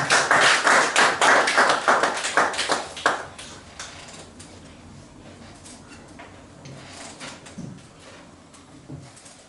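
A church congregation bursts into applause at a Sunday service, dense rhythmic clapping for about three seconds that thins out to scattered claps and fades.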